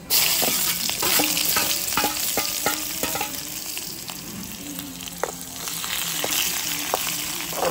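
Mustard seeds and onion frying in hot oil for a fish curry, a steady close sizzle broken by repeated sharp pops and crackles of the seeds and scraping stir strokes throughout, with no talk.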